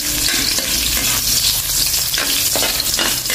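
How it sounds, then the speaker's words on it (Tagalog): Ginger sautéing in a hot pan for a beef stew, with a loud, steady sizzle and frying crackle, broken by short scraping stirs, up close and with no voices. "Una, isute ang luya."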